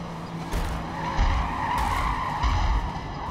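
A Bentley in the Forza Motorsport racing game skids and spins out, tires squealing over a droning engine in a short, continuous burst with no voices.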